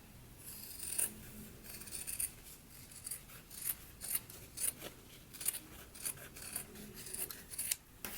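Scissors trim the seam allowance of a sewn jacket flap, a quiet, close series of crisp snips in an uneven rhythm, roughly a dozen cuts with brief pauses between them and no talking.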